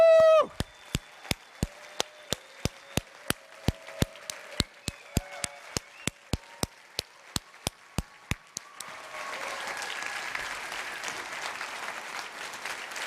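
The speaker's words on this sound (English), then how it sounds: "Would like everyone to give her a huge round of applause" A sharp single tone, then slow regular claps about twice a second, building into a burst of dense crowd applause at a conference near the end.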